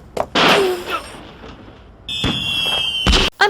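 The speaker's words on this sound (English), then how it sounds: "Vector and SBO crashed into each other and suddenly... Sonic fireworks?" Cartoon fireworks from Sonic X: a loud crackling burst, then a quieter lull, then a bright whistling tone with a sharp bang near the end.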